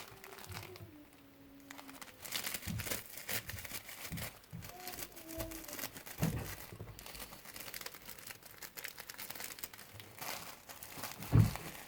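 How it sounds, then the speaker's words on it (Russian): A handmade crinkly fabric tail for a soft turtle toy is squeezed and handled, giving a steady close crackling and rustling that swells in bursts with a sharper crunch near the end, and no talk is heard. "Вот такой у нас получился хвостик шуршащий."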